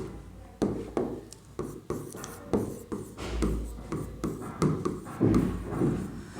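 A marker or chalk scratches and taps across a classroom board during a Bengali English-grammar lesson on syllables, in a series of short strokes with sharp onsets, close and fairly clear with no talk.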